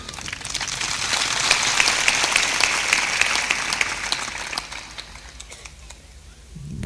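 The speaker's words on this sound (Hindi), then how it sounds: "बहुत अच्छी ताली बजाया आपने" A seated audience at a Hindi devotional discourse claps steadily and densely for several seconds, then the applause thins and fades out toward the end.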